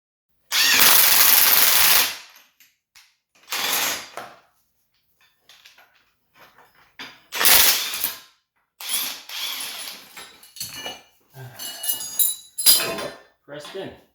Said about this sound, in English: So we're gonna try and press that bushing in right now